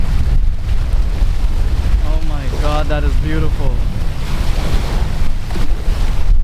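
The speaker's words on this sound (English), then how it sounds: "Super windy here" Strong wind buffets the microphone at the seaside on Camiguin Island, a loud constant rumble with surf beneath, while someone speaks briefly over it.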